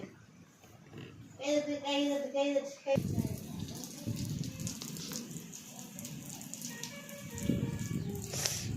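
Rain begins falling, a broad steady hiss of drops on surfaces that starts abruptly partway through and continues at moderate loudness, following a brief tonal sound at the start.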